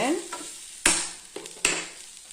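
Small cut pieces of coconut dropped into curry leaves frying in a pan, with a low sizzle broken by two or three sharp clattering hits of spatula and ingredients, close and clear.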